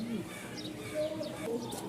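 A male pigeon gives soft, low cooing calls at close range, with a few faint chirps from other birds and a voice talking over it.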